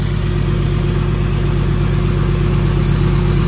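A diesel engine idles steadily on a cold start, with the tailpipe still near 4 degrees; a loud, even low rumble runs unbroken throughout, with no voices.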